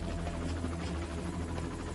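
A helicopter drones steadily overhead, its rotor throb held at a moderate distance as a continuous buzzing hum with no talk.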